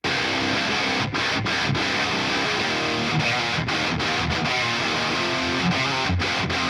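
Heavy metal rhythm guitars, quad-tracked through a Peavey 5150 on one side and a Mesa Triple Rectifier on the other, chug a loud distorted riff with brief clipped stops, no drums and no voices.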